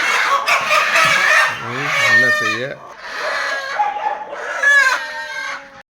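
Native country chickens on a rural Tamil farm cluck and crow nearby, repeated loud calls and drawn-out crows filling the clip, with brief human speech mixed in.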